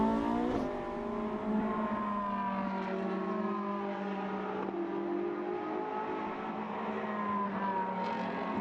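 Ferrari 458 Challenge Evo race cars with front splitters and large rear wings run through the turn 1 and 2 chicane at Monza, a continuous loud blend of high-revving engines shifting pitch as they brake and accelerate, with no talk.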